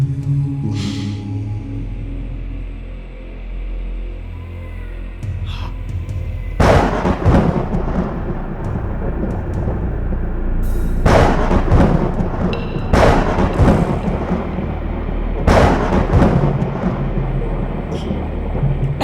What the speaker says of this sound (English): I can hear the rolling thunder.